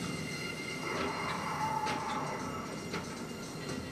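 Steady low rumble of a train rolling on rails in the video game Singularity, with faint intermittent metallic squeals and clatter, quiet and continuous with no talk.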